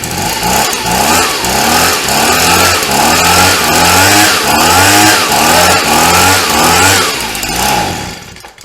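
Small two-stroke engine of a Stihl BG 55 leaf blower fitted with a replacement carburetor, running loud and close, surging up and down in repeated revving cycles roughly every half second, then cutting off at the end.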